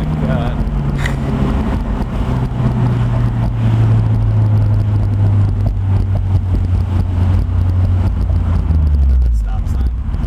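A Honda S2000 fitted with an HKS exhaust and test pipe drones loudly and steadily as it launches hard, the engine note holding under wind buffeting while people talk and shout over it.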